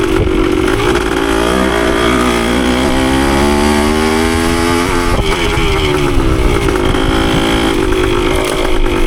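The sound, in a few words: Yamaha CT3 175 motorcycle engine riding in fourth gear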